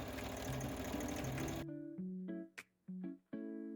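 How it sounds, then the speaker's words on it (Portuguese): A domestic sewing machine stitches a fabric pennant along a seam, running in a loud continuous whir for over a second, then stopping into short, separate bursts of stitching. "E agora eu vou costurar em cima da linha que eu fiz"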